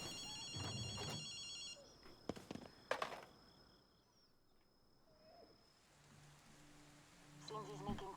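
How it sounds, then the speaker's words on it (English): A telephone rings in the video game Ghostwire: Tokyo, its electronic trill coming in short bursts at the start and again near the end, fairly faint over quiet ambient game sounds and soft footsteps. "I do hear a phone ringing"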